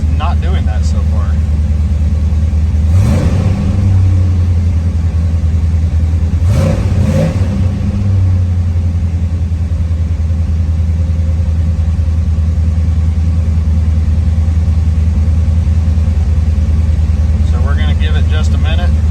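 A 1982 Corvette C3 engine runs on its first starts after an ECM swap, a loud steady low idle rumble with a couple of brief revs early on, close to the car throughout.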